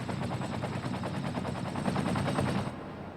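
Helicopters in the Cities Skylines city-building game fly out to fight a forest fire, a steady rapid rotor chop throbbing throughout and thinning out near the end.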